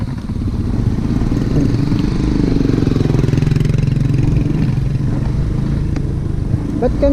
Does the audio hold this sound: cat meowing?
no